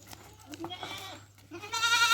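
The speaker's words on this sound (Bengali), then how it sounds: "রাজু ভাই অনেকগুলো তো ছাগল দেখাইলাম" Totapuri goats bleat in short bursts, with a louder, sustained bleat at the end, over farmyard background noise.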